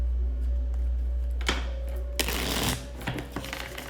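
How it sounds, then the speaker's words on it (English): Tarot cards being shuffled close by, a steady soft riffle under a low hum, with two sharper bursts of card noise toward the middle. "Another one shuffle."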